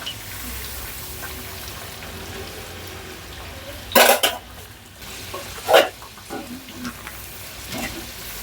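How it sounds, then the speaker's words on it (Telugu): Corn kernels coated in batter fry in hot oil for crispy corn, a soft steady sizzle running underneath with a few sharper bursts of spattering and clatter around the pan. "కలిపేసిన వెంటనే నేనైతే ఆయిల్లో వేసేస్తున్నా. వీటిని బాగా క్రిస్పీగా ఫ్రై చేసుకుందాం."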